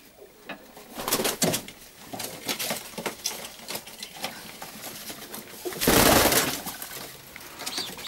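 Pigeons coo softly amid rustling and fluttering, with a burst of flapping or scuffling noise partway through; no one speaks.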